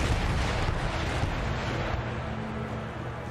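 Artillery fire in the Empire Total War battle game, dense booming cannon rumble rolling on continuously with a low, sustained roar and a faint tonal hum beneath, no voices.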